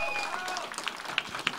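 A small audience claps lightly for a League of Legends esports team at a live Bulgarian tournament final. The thin, scattered applause runs under a speaking voice, with a few sharper claps standing out near the end.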